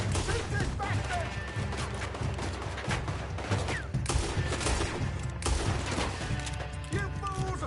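Rapid bursts of gunfire crackle through a tense shootout in the video game Red Dead Redemption 2, with overlapping shots, impacts and wooden crashes layered close and loud alongside shouted voices.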